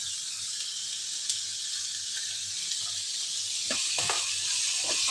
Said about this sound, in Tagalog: Yan, igisa lang natin siya saglit.